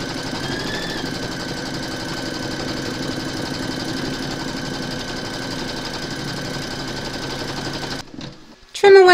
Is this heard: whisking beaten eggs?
no